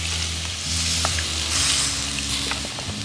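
Frog pieces cooking in coconut milk in a pan for a Vietnamese stir-fried frog dish, giving a steady close bubbling sizzle with a low background hum and a few light utensil taps, no talking.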